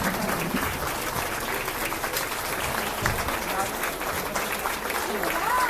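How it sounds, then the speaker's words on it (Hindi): Crowd clapping for Madhya Pradesh agriculture minister Kamal Patel at a women's self-help group tractor handover event, a steady dense wash of applause running throughout with voices mixed in. "जब तक मंत्री जी अंतिम छोर के बहनों तक नहीं पहुंच जाते तब तक तालियां बजती रहनी चाहिए।"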